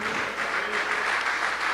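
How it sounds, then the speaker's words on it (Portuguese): Congregation in a church service applauding, a dense continuous clapping wash that stays steady and fairly loud throughout with no voices on top. "Vamos aplaudir o Senhor."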